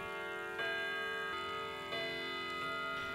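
Several mechanical clocks ticking together in a clock shop, a steady, slow rhythm of sharp ticks over a constant ringing hum, close and with no voices.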